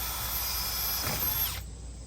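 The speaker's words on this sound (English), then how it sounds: "I'm going to drill out this top one a good bit bigger here" A power drill whines steadily at full speed for a couple of seconds, enlarging a hole with an ill-suited bit, then cuts off abruptly.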